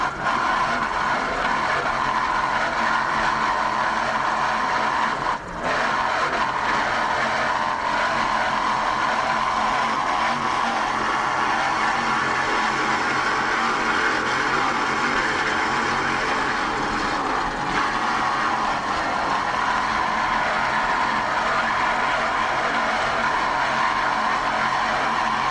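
Offshore racing powerboat engines roar under throttle during race 1 of the 1994 Key West World Championships, aboard the 38-foot Gulf Wind Velocity, B-87, a loud continuous high-revving drone that surges and shifts in pitch with no speech.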